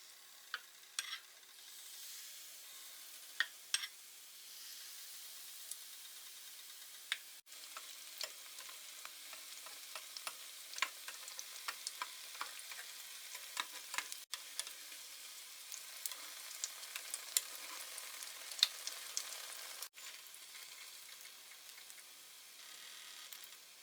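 Malpua batter frying in hot ghee, a steady close sizzle with scattered crackles and pops throughout, no voices over it.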